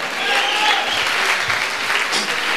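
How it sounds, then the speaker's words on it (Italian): An audience at an Italian stornelli and wine festival claps for itself, a brief burst of steady, moderately loud applause with faint voices mixed in. "Fatevi un bel applauso forte."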